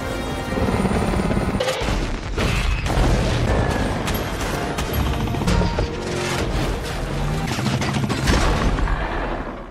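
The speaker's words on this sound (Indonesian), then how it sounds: "kedua belah pihak segera melepaskan tembakan" Rapid bursts of gunfire crackle continuously over a loud, dense action soundtrack with booms and mechanical clatter, from a film shootout between two sides.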